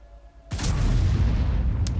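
A sawed-off shotgun fires once in a video game, a sudden loud boom that swells into a sustained rumbling roar, with a short sharp crack near the end and no voices.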